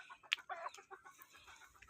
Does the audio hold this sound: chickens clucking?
yes